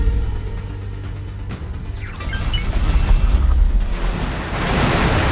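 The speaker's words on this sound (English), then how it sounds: "Explosion imminent." A spaceship or station explosion in the space game X4: Foundations, a deep rumbling boom that swells over several seconds into a broad roaring wash, loud and sustained with no voices.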